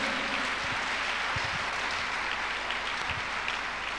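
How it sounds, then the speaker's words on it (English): A congregation claps together at a church miracle service, a dense, steady wash of applause filling the whole stretch with no break. "Shall we clap unto God and appreciate him?"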